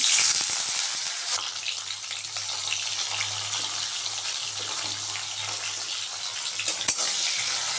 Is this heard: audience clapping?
no